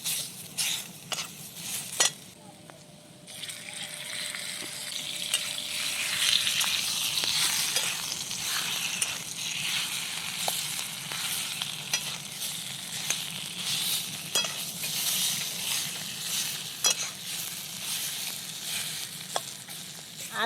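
Onion roasts in a few drops of oil in a wok for a traditional goat mutton recipe, giving a continuous close sizzle with scattered metallic taps and stirring scrapes throughout.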